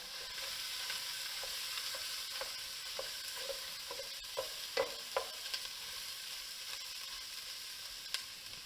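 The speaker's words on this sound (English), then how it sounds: "take our pound of ground beef and we're going to go ahead and cook that in a pan real quick" Ground beef fries in a pan for chili, a soft steady sizzle broken by scattered scraping and stirring clicks from a utensil, with a few sharper knocks near the middle.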